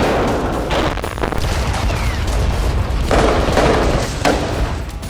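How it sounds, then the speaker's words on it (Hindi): Gunfire and shelling at night in the West Bank, a dense, loud rumble of booms and crackling shots with repeated heavier bursts, distant blasts layered over continuous noise. "वेस्ट बैंक में 15 नवंबर की रात जगह जगह गोलाबारी की आवाज आती रही।"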